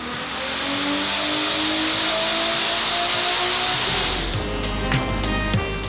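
A Toyota Supra engine running on ethanol with the boost turned up revs hard and loud, a continuous close roar that climbs and holds for several seconds before settling toward the end.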